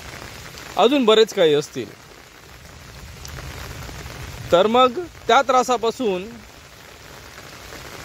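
Unseasonal rain falling in Sindhudurg district on the Konkan coast, a steady patter and hiss running throughout beneath a voice speaking in two short bursts.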